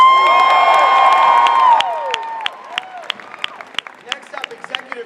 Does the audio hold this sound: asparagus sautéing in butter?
no